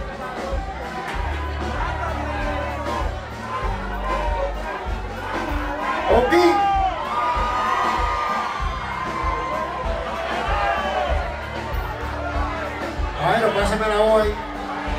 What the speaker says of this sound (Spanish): aplauso para Diego, pues este caballito de la gente